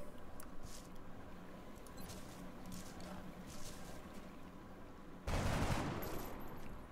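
Gunfire rings out during a firefight in a plaza in a tactical video game: scattered shots, then a loud, dense burst of fire near the end.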